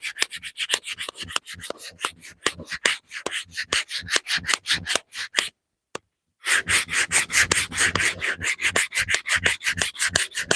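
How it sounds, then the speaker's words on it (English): Coarse 80 grit sandpaper rubbed over wood to clear spokeshave and sander tooling marks, heard as close, steady rhythmic back-and-forth strokes with a brief pause midway before the scraping resumes more densely. "And this 80 grit should help us with some of our tooling marks"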